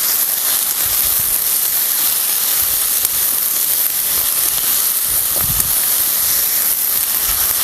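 Fenugreek leaves with moong dal sizzle in a hot pan during stir-frying, a steady close hiss running unbroken with faint scraping bumps.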